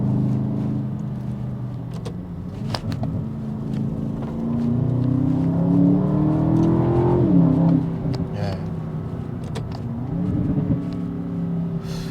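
An Aston Martin DBX GT SUV engine accelerating, its steady low rumble rising into a revving sweep around the middle before easing off, then building again, close and continuous throughout.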